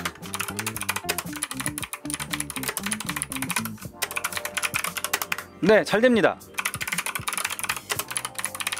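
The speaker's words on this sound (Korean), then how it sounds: "타이핑 한번 해볼까요?" Rapid clicking keystrokes on a keyboard connected to an iPad Pro 11-inch tablet, typed in close bursts with short pauses, and someone briefly speaks midway.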